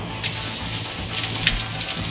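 Tap water sprays hard off a spoon under a running faucet while dishes are washed at a sink, a loud, close, steady hissing gush with brief spikes of splashing.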